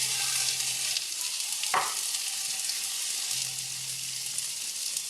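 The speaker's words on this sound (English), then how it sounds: "now I'm just going to add about a cup of corn" Canned corn drops into a pot of chicken pot pie filling, giving a brief wet plop over a steady, loud sizzle of the cooking filling.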